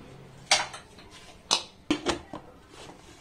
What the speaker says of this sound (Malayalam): ഇനി നമുക്ക് കുക്കർ അടച്ചു വെച്ച് സ്റ്റൗ ഓൺ ആക്കാം.